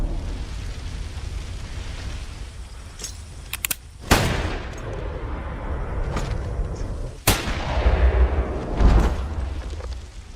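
Gunfire in a film shootout: a few sharp, loud shots crack over a dark rumbling background, with two heavy blasts standing out from lighter scattered pops.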